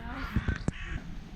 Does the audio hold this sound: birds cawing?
yes